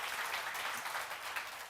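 Audience at a church seminar on the Book of Judges claps in a continuous, even wash of applause, fairly soft and distant.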